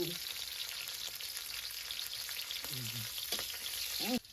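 Free-range country chicken fries in oil with chili in a pan, a steady close hiss and sizzle that runs without a break. A few faint stirring scrapes sound under it, with no talk.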